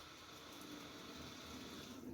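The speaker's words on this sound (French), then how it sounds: "je vais mettre de l'eau dans la barquette directement" Water running into a plastic strawberry punnet in a kitchen, a steady soft hissing trickle that continues evenly throughout, quiet and close with no talking.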